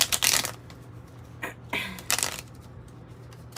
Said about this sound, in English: I also noticed I was having difficulty shuffling your cards